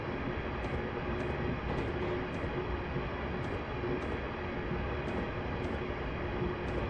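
A simulated train runs toward Rugeley station in Train Simulator, making a steady, loud rumble with regular clicking beats from the rails.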